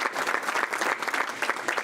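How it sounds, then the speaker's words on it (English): Brisk, thick clapping from a club meeting audience welcoming a new member, a short continuous burst heard up close. "So if you could give me a round of applause and welcome John."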